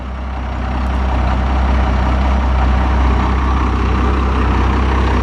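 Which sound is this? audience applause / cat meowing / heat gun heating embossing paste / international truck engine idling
international truck engine idling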